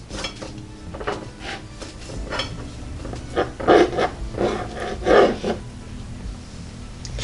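A bread knife saws through a loaf of strawberry cream cheese bread, giving a series of soft scraping, rasping strokes with two louder crunchy bursts partway through.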